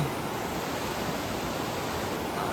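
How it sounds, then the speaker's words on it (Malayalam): Water rushing down a stream in rural Rukum, Nepal, a steady broadband roar of flowing water, close and continuous without pause. "വെള്ളം ഇങ്ങനെ കുത്തി ഒലിച്ചുകൊണ്ടിരിക്കുക"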